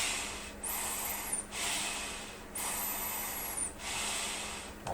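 Breathing through the ducts and ports of a ResMed CPAP mask, heard as two slow, close airy inhale-exhale cycles with hissing whooshes and quiet gaps between them.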